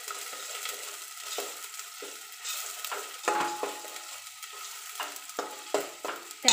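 Onion and garlic paste sautéing in a pan for pav bhaji, a steady soft sizzle with repeated scraping stirs of a spatula at an uneven rhythm, close and moderately quiet, no talking.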